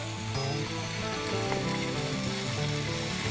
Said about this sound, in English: I love the sound of it frying.